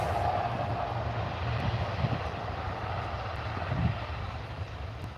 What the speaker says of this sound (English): Here we go, Aer Lingus off to Dublin